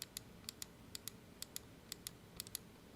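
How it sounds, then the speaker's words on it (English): Scroll-wheel button on a Glorious Model I gaming mouse clicked again and again, about a dozen light, sharp ticks at a fairly steady pace, close and isolated, ending on a louder knock. "Scroll click"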